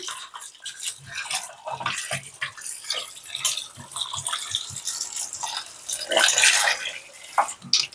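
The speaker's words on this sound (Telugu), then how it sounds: "ఇది కడిగేసుకుందాము." Roasted goat head meat is washed in water, with irregular splashes, sloshing and drips coming in close bursts, louder near the end, and no talk over it.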